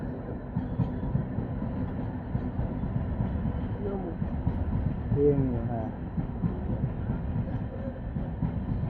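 A Lalgola line passenger train rolls past a level crossing, braking as it goes, with a steady rumble and clatter of wheels and faint squeals. Brief talk is heard over the train.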